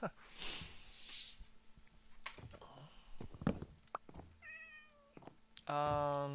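A black cat in Minecraft gives a few short game meows amid a person's talk, followed by a louder, sustained meow at the end.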